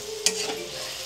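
Marinated meat in yogurt, salt, chili, turmeric and ginger-garlic paste fries in hot oil, giving a steady close sizzle with a sharp stirring scrape near the start.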